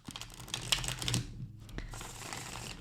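Oracle cards being shuffled in quick crisp riffling bursts, close and quiet, with a short pause midway before more soft card rustling.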